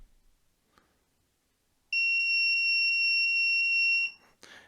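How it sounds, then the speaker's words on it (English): A breadboard ultrasonic distance alarm's buzzer sounds a loud, steady high-pitched tone for about two seconds, then cuts off, with faint handling noise before and after. "the buzzer emits a very loud sound"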